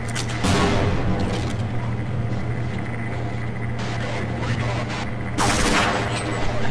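Bursts of gunshots ring out in Half-Life, a loud broadband volley near the start and another near the end, with steady machinery-like game noise running underneath.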